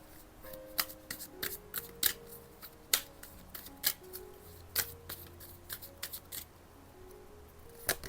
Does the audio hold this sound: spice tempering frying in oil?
no